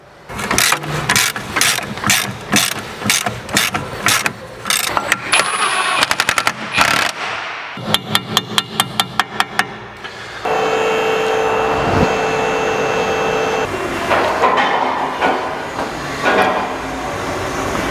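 A Jeep on a road test after new KYB shock absorbers are fitted and a wheel alignment is done, its engine roaring loud and close with rapid rattling bursts, then settling into a steady driving drone.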